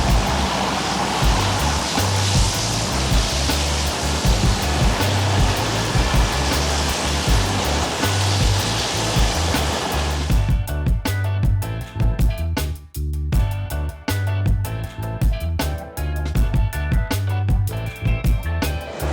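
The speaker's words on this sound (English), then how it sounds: "Next to the gym, it has a swimming pool." Water in a hotel's indoor swimming pool rushes with a loud, steady, hiss-like roar like a fountain or filter outflow, followed by a more broken, splashing wash with a brief dip partway through.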